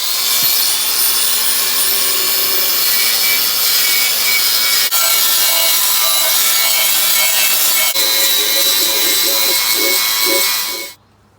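Light hand sanding on an original Ford subframe during an ST170 restoration, a continuous rough rasping scrub, loud and close, with a couple of brief knocks partway through before it cuts off abruptly near the end.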